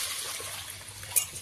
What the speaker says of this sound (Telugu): దీంట్లో నీళ్ళు పోసి